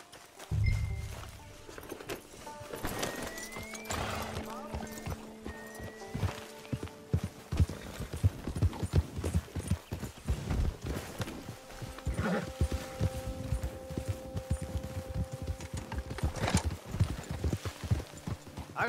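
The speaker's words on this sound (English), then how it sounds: "Get your horses." Horses walking in the Red Dead Redemption 2 game, hooves clip-clopping in a steady, close rhythm that runs throughout, with an occasional whinny and other game sounds in the background.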